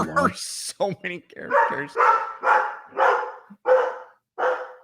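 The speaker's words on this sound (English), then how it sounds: "That's my dog." Excited pet dog barking in a home, a run of about six sharp, loud barks in quick succession following a person's speech at the start.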